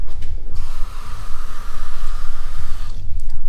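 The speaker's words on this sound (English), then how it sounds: "And we're gonna mix it up with water." Water poured into a thick protein powder and rice mixture, a steady close splashing stream lasting a couple of seconds, with handling noises before and after.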